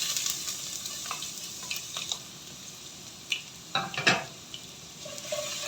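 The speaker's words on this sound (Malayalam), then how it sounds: "കടുക് പൊട്ടി വന്നിട്ടുണ്ട്. ഇനി അതിലേക്ക് ഇഞ്ചി ചേർത്ത് കൊടുക്കാം." Ginger fries in oil with popped mustard seeds for semolina upma, a steady close sizzle punctuated by spatula scrapes and metallic clinks against the pan, without any talking.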